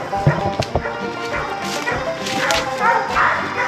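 Hunting dog treeing a raccoon, barking repeatedly in quick sharp yips and bow-wows at close range, with people talking over the barking.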